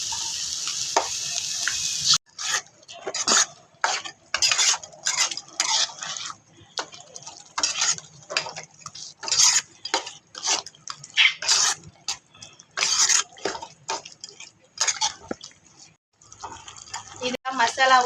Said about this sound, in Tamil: இப்போ நம்ம இதில் வந்து நம்ம பீஃப் சேர்த்துடலாம்